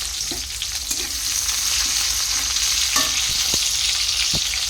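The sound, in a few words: onion and chilli frying in oil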